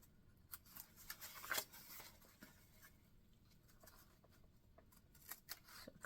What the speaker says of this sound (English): you're going to cut straight in to the end of this 180 tab